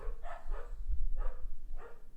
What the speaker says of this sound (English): apologize if you hear that barking in the background.